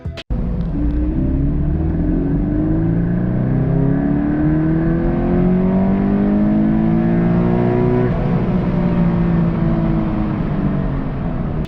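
A loud Scion FR-S / Toyota 86 sports car engine revs steadily upward, its pitch climbing for several seconds before easing back down, with no voices.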